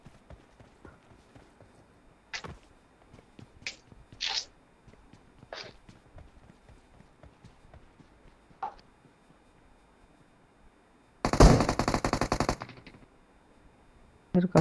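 Gunfire in the mobile battle royale game BGMI: scattered single shots and footstep-like taps, then a dense, loud automatic burst lasting about a second and a half, with a final shot at the end.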